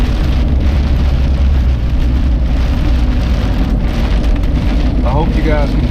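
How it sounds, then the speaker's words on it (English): Heavy rain drums steadily alongside the low rumble of a truck engine, a dense, continuous wash of noise that stays loud throughout. "I hope you guys can hear me over the rain and over the truck noise"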